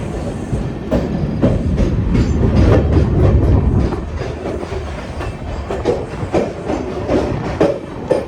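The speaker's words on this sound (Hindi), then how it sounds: "ब्रिज का काम चल रहा है, जिसके कारण से हमारी ट्रेन यहाँ पे धीरे धीरे चल रही है" An LHB-coached Bilaspur–Tirupati express rolls slowly past bridge works under a speed caution, wheels clicking steadily over rail joints in a close, continuous rumble with no talk.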